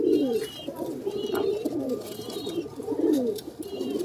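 Pigeons coo steadily and close by, a low throaty rolling call repeated in overlapping waves for the full stretch, with a few faint higher chirps above. The flock includes an old red male.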